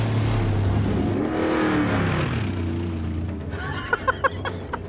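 A Mercedes G-Wagen drifts across a flat desert floor, its engine roaring loud and close with rising and falling revs as it slides, then a few sharp bursts near the end.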